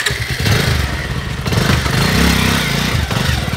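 A motorcycle engine running close by, a loud steady rumbling drone with slight rises in pitch, heard alone without speech over it.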